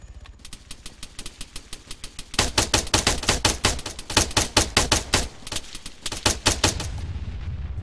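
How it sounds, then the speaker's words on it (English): Gunfire in the Arma 3 video game is aimed at a turret. Quieter, evenly spaced shots lead into loud, rapid automatic bursts that hammer on with brief gaps before a trailing rumble. "Take out the turret. Shoot at the turret."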